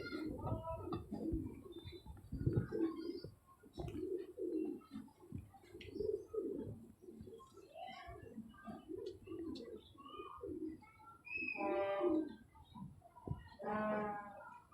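A pigeon held in the hand struggles and coos at dusk, with low murmuring calls and rustling, then brighter chirping bursts near the end; no clear speech.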